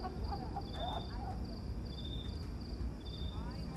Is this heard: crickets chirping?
yes